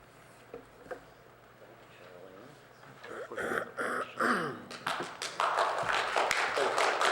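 Audience applause at an architectural review board meeting, starting with scattered taps and a cough, then building into loud sustained clapping from the room over the second half, with some voices early on.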